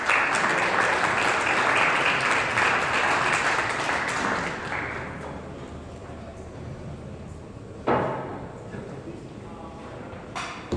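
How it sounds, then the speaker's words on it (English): An audience gives a round of applause at a business conference, loud and dense for about five seconds, then fading to scattered claps and room noise, with a few brief bumps later. "Please give a big round of applause."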